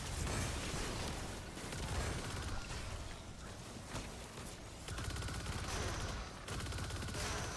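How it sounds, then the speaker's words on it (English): Rapid, dense gunfire from a rocket sidearm in the video game Destiny 2, a continuous loud barrage of shots and explosive pops with game mechanisms clattering underneath and no talking. "we have our rocket sidearm to take care of it"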